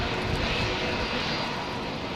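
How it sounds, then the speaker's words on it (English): Boeing 777 airliner jet engines roar in a loud, broad, steady rush, a close and continuous sound with no voices. "That was a 777 that we just saw there"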